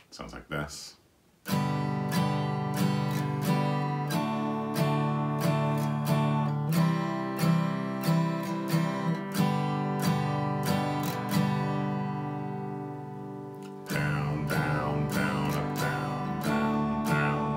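Acoustic guitar strummed in an easy beginner strumming pattern of down and up strokes, steady rhythmic chords ringing out loud and close, with a brief pause and a change partway through.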